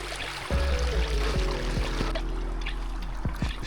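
Stream water flows steadily beside forest steps on a trekking trail up to Udayagiri Fort near Nellore, a continuous close rushing and trickling wash with no talk.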